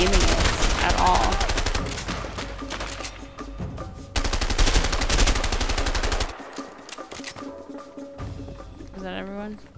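Gunfire rattles in the video game A Way Out: dense bursts of rapid automatic shots in loud stretches, broken by short pauses and quieter gaps, with a voice speaking near the end.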